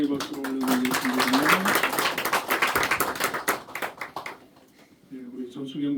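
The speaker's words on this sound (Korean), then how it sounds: "우리 하나님께 영광의 박수를 올려드리겠습니다." A church congregation at a Sunday morning service applauds, a dense burst of clapping that swells and then thins out, with a voice speaking over it at the start and again at the end.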